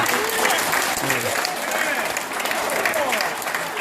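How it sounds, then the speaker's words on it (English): A seated audience at a gathering stands and applauds, giving a dense, loud wash of clapping throughout, with voices mixed in underneath. "Stand up and applaud."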